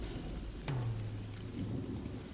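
Steady rain hisses throughout, with a sharp crack of thunder early on followed by a low rolling rumble.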